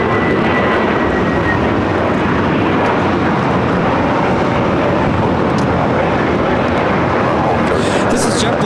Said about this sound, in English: This is JetBlue 2010 taking off to West Palm Beach on the A321neo LR